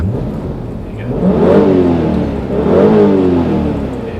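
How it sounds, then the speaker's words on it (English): A car engine is revved twice while the car sits still, each rev swelling up and falling back over a low idle, loud and close, with no talk. "if I rev the engine, you'll see the N75 come up and the boost come up a little bit."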